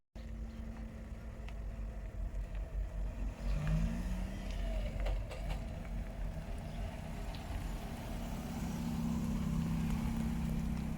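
A rental car's engine runs with a steady low hum inside the cabin and rises slightly as it pulls away, continuous and moderately quiet with no talking.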